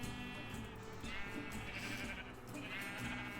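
Sheep in the video game Township Tales bleat in a dense, overlapping flock, several wavering calls close by and continuous over soft background sound.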